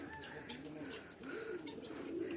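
Pigeons coo softly in a low, rolling murmur, several calls overlapping at a moderate distance with faint background noise.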